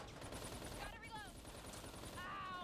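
Dense, rapid gunfire from an online multiplayer shooter rattles steadily through the whole stretch, with players' voices chattering underneath.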